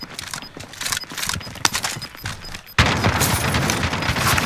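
R9 shotgun fire in a Warzone match: sharp, loud blasts and a sudden heavy burst of noise amid busy game sounds, close and dense, without speech.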